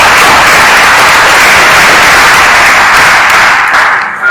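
Sustained loud applause from an audience at a stakeholders' retreat gathering, a dense wash of clapping that holds steady and starts to thin toward the end, no speech over it.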